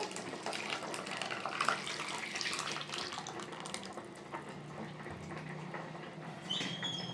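Water streams into ground masala for a meatball sambar, a steady close pouring and splashing that runs for several seconds with no voices.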